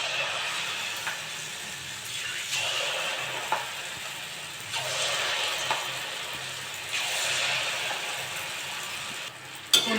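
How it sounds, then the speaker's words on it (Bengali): Semolina laddu pieces fry in white oil with a constant bubbling sizzle, punctuated every couple of seconds by a sweeping swish and soft clicks as they are turned over. "উল্টে পাল্টে ভালো করে ভেজে নেবো।"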